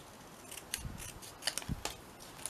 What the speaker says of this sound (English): Let's just cut these off